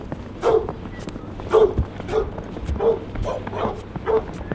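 Dogs bark repeatedly at a slightly distant spot in Detroit, about seven sharp woofs spaced fairly evenly, with some whimpery yips between.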